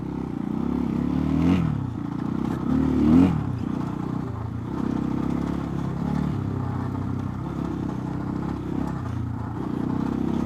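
Templar M electric bike ridden down a trail, with a steady low rumble of motor and tyres on dirt, scattered clatter and scraping bumps throughout, continuous and fairly close.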